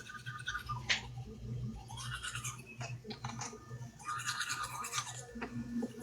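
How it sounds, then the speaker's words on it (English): A daughter's electric toothbrush runs close by with a steady high buzzing whine, broken by bursts of scratchy, bristly brushing noise that come and go over several seconds. "my daughter's electric toothbrush, you can downright hear that thing clear across the house"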